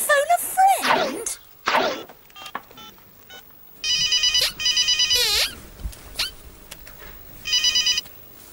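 A telephone bell rings in repeated bursts with short pauses between them, mixed with thumps and a brief voice earlier on.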